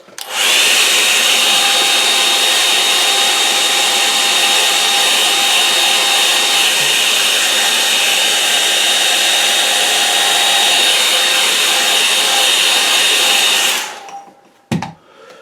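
A hair dryer blows steadily and loudly at close range for about fourteen seconds while drying a watercolour painting, then switches off abruptly, followed by a brief knock.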